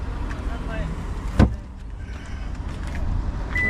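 A 2021 Toyota RAV4 XLE Premium hybrid's power tailgate closing automatically: a low motor whir, then one solid latching thud, followed by quieter mechanical hum.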